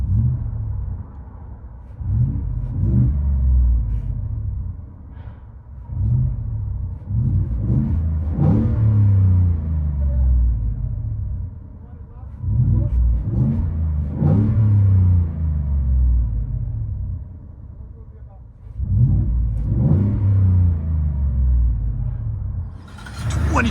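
Inside the cab of a 2022 Ford F-150 with a 5.0L Coyote V8 and Borla Pro XS exhaust, the engine is revved repeatedly. Each burst swells into a loud, deep roar, then settles back to a rumbling idle.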